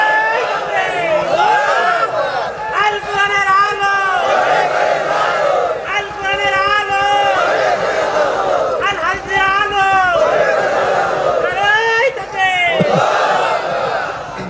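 Large crowd at a Bangladeshi religious sermon gathering shouting takbir in loud unison, repeated bursts of massed chanting voices rising and falling in waves, close and forceful, with a lead voice calling between them.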